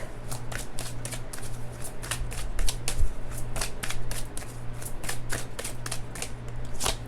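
Tarot-style cards are shuffled by hand for a love reading, producing a steady run of crisp, rapid riffling clicks close to the listener over a low background hum, with no talking.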